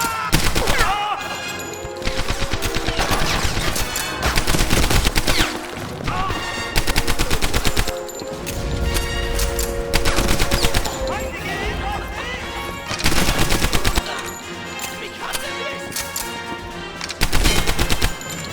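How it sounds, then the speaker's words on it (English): Rapid German automatic weapon fire from the PC shooter Medal of Honor Airborne, loud repeated bursts of gunshots in rhythmic volleys across the whole stretch, with a voice talking over it. "Chuck the Thompson aside in favor of them German guns"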